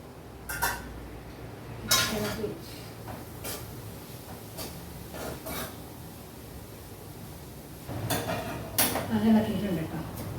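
Cabbage thoran with green chillies and curry leaves being stirred in a cooking pot, with scattered metallic clinks and scrapes of a spoon against the vessel, soft and intermittent, alongside people talking.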